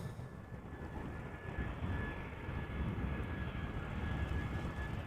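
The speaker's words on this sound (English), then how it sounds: "Meanwhile, Top Air Portugal arriving from Lisbon, A320, flight 674." A TAP Air Portugal Airbus A320 arriving from Lisbon at Amsterdam Schiphol Airport makes a steady, broad jet roar at moderate distance that holds for several seconds, with a faint high whine running through it.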